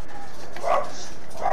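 A dog barks in short bursts, two brief yaps a moment apart, heard over a voice chat in a Fortnite match, moderately loud against a quiet background.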